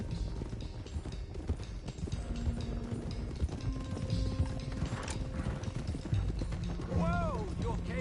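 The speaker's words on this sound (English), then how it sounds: "let's get these horses to Clemens Cove quick before we run into any more trouble" Horses' hooves clip-clop steadily at a walk along a trail in Red Dead Redemption 2, a small group moving together amid game ambience, with brief tonal calls near the end and voices talking over it.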